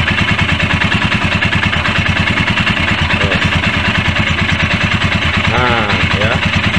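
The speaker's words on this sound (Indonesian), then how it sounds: "Yuk kita hidupkan, coba kita hidupkan" A Royal Enfield Himalayan motorcycle engine runs at a steady, loud, close idle with a rhythmic thumping pulse, while someone talks over it.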